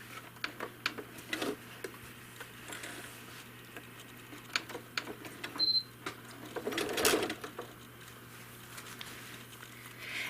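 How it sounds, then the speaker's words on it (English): A home sewing machine stitches leaf shapes into a quilt, giving faint, rapid ticking and patter that stays quiet and close throughout with brief pauses. "I'm going to stitch leaves coming out from this center here"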